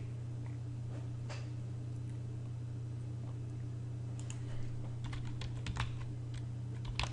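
Typing on a computer keyboard, soft scattered key clicks that cluster into a quicker run near the end, faint under a steady low electrical hum with no talking.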